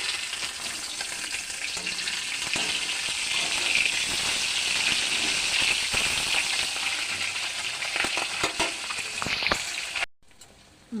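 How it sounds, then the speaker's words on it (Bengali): Pieces of rohu fish frying in hot oil in a wok and being flipped: a loud, dense crackling sizzle runs steadily for about ten seconds with occasional clicks of the turner, then cuts off abruptly. "এবার মাছগুলো আমি উল্টে দিচ্ছি"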